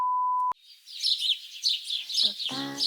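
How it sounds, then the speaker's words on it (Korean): Small songbird chirps and tweets in a steady stream of high, rapid twitters, fairly close, after a brief steady tone at the start; a short lower burst of sound near the end. "피오라는 이름을 가진 이 새가 지저귀는 소리가 배경으로 들려오는"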